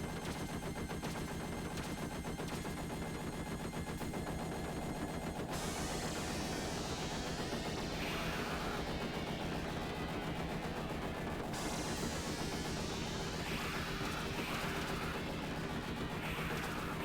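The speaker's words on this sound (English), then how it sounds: "with just the base machine gun" Sustained rapid machine gun fire in Konami's Aliens arcade game, dense and continuous, layered with busy game effects for the whole stretch.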